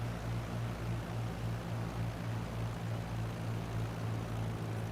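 Propeller airplane on a landing approach with throttle lowered and flaps fully down, a steady droning engine hum with low tonal harmonics that holds at an even level throughout, alone with no talking.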